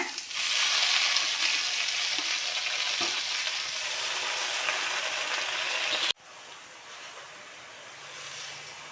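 Puliccha keerai greens dropped into a pan of sautéed green chillies: a loud, steady sizzle and frying hiss with stirring that cuts off abruptly near the end, leaving a quieter, softer simmer.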